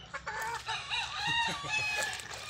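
Backyard chickens dust bathing, clucking and murmuring close by in a continuous, busy chatter of short calls, with no talk over them.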